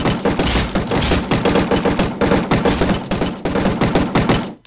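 Rapid automatic gunfire in a Minecraft Call of Duty mod game, a long loud string of evenly spaced shots with brief gaps, close and continuous, ending abruptly.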